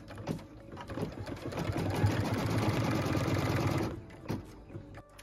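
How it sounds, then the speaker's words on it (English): A sewing machine runs steadily for about three seconds, stitching a tack-down line through quilt fabric for a pieced tree block, with brief lighter rattles before and after the main run. "What we're stitching now is the tack down line for piece number 6"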